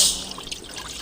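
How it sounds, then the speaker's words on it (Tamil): A cup of water poured into a cooking pan while making moong dal ukkarai, a brief soft trickle and splash heard alone. "ஒரு கப்பு தண்ணி."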